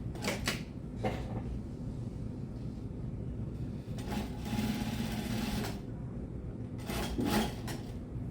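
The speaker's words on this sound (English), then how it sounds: "I just need to run a top stitching or edge stitching basically on the stand part" Sewing machine running continuously while edge stitching along a shirt collar stand, a steady close mechanical whir with a few bursts of handling noise and no talking.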